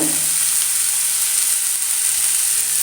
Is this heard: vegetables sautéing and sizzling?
yes